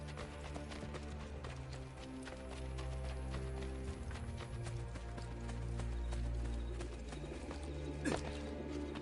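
A horse's hooves clip-clop in a steady trotting rhythm as it arrives after being whistled for in Assassin's Creed Brotherhood, set against ambient Rome city sounds with birds cooing and soft background music.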